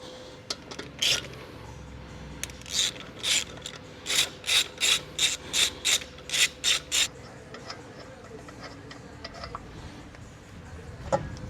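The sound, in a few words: torque wrench tightening lug nuts on Tesla Model 3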